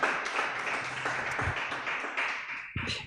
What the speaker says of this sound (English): give a thunderous hand clap to these 2 gentlemen that have stayed